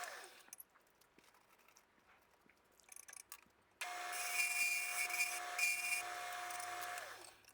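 Wood lathe spinning a hammer handle blank as it is turned down to a dowel shape, a few light scraping taps and then a loud steady whirring cut for several seconds.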